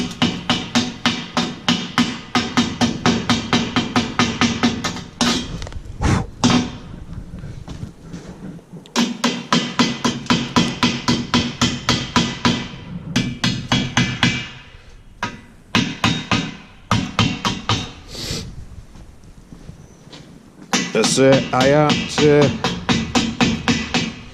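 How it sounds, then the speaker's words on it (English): Rapid bursts of sharp metallic hammer taps chip slag off fresh welds on a steel gate for a calf shed, coming in runs with short pauses, close and loud throughout. "We'll see if my slag comes off."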